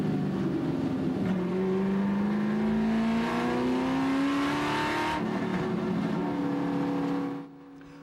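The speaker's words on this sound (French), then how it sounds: "les voitures s'alignent pendant le tour de chauffe" Race cars on a warm-up lap before a race start, engines revving loudly with a steadily rising whine that holds for several seconds before cutting off near the end.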